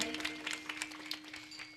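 Audience clapping at a bhajan performance, a short patter of hand claps, fairly soft and steady, with a faint sustained tone underneath and no talking.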